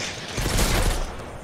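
Burst of gunfire from a firearm in the survival game Mist Survival, a dense, loud crackle of shots running without a break across the short moment.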